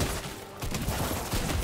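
A dense rattle of gunfire in a Fortnite match, sounding fairly distant against constant background game noise.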